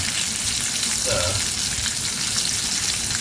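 Steak and onions frying in butter in a pan, a dense, even sizzle held close and loud throughout, with a brief murmur of voice partway through.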